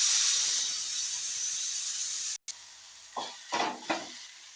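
Soya chunks sautéed in a pan with chutney and salt, a steady close sizzle that cuts out briefly, then returns softer with a few scraping stirs.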